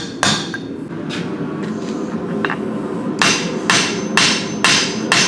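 A cold copper ladle is hammered by hand on an anvil: about seven sharp, ringing metal strikes at an uneven pace, loud and close, over a steady workshop hum.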